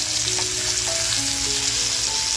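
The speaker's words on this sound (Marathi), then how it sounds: "अगोदर फास्ट फ्लेमवरती आपण याला फ्राय करून नंतर मग स्लो फ्लेम करूया" A pomfret stuffed with prawns fries in oil over a high gas flame, giving a loud, steady, dense sizzle that holds without a break, with faint tonal kitchen sounds in the background.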